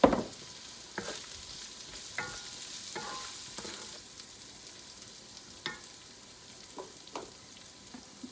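Garlic frying in a pan with low sizzle and intermittent scraping stir strokes, close and moderately quiet, no talking, a louder clatter at the start.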